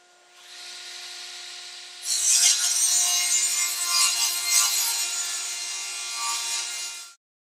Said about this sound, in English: we'll be turning on the table saw and cutting some wood with the Apple AirPod Pros